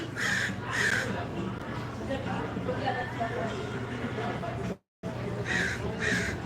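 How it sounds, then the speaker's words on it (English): A crow gives harsh caws in quick pairs near the start and again near the end, heard fairly close. A steady outdoor background and people talking run underneath. "Listen to the crow."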